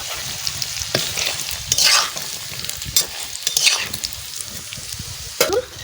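Khoira fish fries in hot oil in a pan, a continuous close sizzle broken by several louder stirring scrapes and bursts of spattering at irregular intervals.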